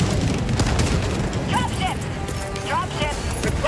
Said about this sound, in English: there's so many explosions